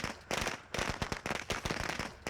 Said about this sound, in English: let's throw some firecrackers and stick a mine on them.